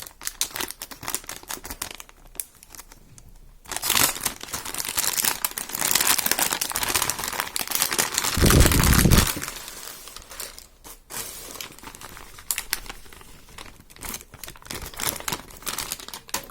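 Plastic packets of pearlescent metallic party balloons are crinkled, torn open and rustled close up, a continuous loud crumpling with a few sharper tearing bursts and no talking.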